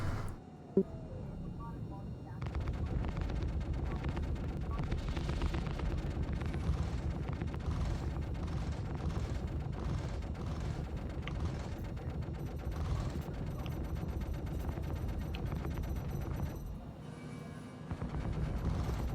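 Ship cannons firing at a target during Star Citizen alpha 3.14.0 gameplay, a dense continuous barrage of rapid mechanical bursts with heavy low rumble that runs steadily for most of the stretch before dropping off near the end.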